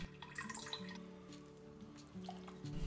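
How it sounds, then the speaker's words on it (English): Whey draining from mozzarella curds back into a pan, giving faint, irregular drips and small trickles of liquid in a quiet kitchen. "Let as much whey as you can drain back into the pan."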